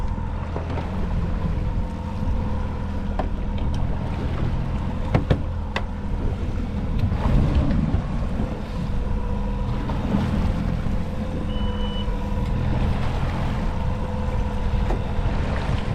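Boat's big outboard motor idling to charge the batteries while out salmon fishing off Everett, Washington, a steady low rumble with wind noise running throughout, no talking.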